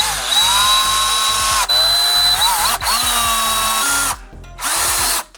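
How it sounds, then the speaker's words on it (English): A power drill drilling out metal rivets whines in several short bursts, with its motor pitch dipping under load, separated by brief pauses. "Just drill them out real quick"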